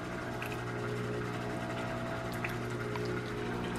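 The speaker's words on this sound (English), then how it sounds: "It's 3 cycles of pumping water in, internal cleaning, and water flowing from the outlet." A Nespresso coffee machine runs its internal cleaning cycle, its pump droning steadily as water is drawn in and flushed through to the outlet. The hum is continuous and close for a few seconds, with faint water trickles over it.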